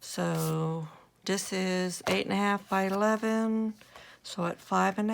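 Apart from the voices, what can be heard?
No everyday noise stands out behind the speech.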